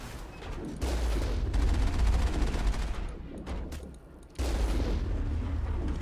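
Sustained gunfire while shooting enemies in Mass Effect, dense continuous bursts with a brief lull before another loud volley picks up, close and steady throughout.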